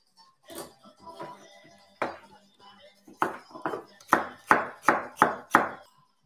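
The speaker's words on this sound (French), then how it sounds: "Alors, céleri. On va faire. Voilà, des fines lamelles en biseau." Knife chopping celery into thin diagonal strips on a board, starting as soft scattered cuts and building to a run of crisp, evenly spaced chops near the end, close and fairly quiet.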